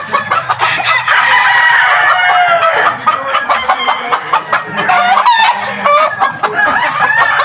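Many fighting roosters on a large farm, loud overlapping crowing and clucking from birds close by, continuous throughout with no talk.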